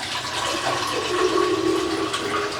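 Water gushes steadily into a film development tank for washing, a continuous close rushing pour with a slight rising fill tone.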